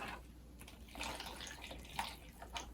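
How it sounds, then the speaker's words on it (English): Water trickles and splashes softly into an indoor plant pot holding a leek, a faint, close pour with a few small drips and splatters, no talking. "pour some water"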